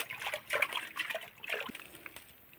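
Child splashing water with the hands, a few quick irregular splashes and trickles, close but fairly soft.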